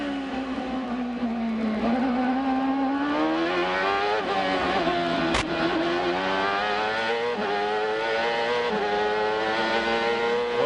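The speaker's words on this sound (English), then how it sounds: "All of those cars, except race leader Raul Boesel, have pitted once" IndyCar race cars at the 1997 Long Beach street race roar continuously, engine notes rising and falling as they accelerate and shift through the corners, loud and close with no talk over them.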